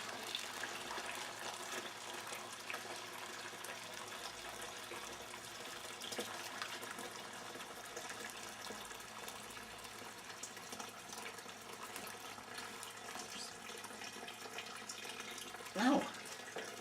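Water pours steadily into a brewing vessel while elderflower brew is being made, a continuous faint gushing splash with little change in level and a brief bump near the end.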